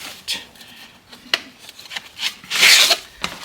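A Sears saw blade package is pulled open in a few quick bursts of crinkling plastic and cardboard, close and uneven, with one louder rustling tear near the end.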